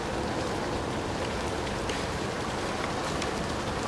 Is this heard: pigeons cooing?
no